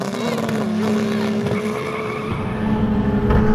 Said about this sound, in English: We're just going to do another drag race to see.